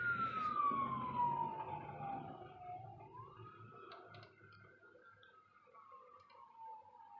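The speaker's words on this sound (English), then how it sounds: "I wonder what the sirens are." Emergency vehicle sirens wail outside a house, faint and distant, one long falling tone bending and sliding slowly over several seconds against a quiet background, with no talk.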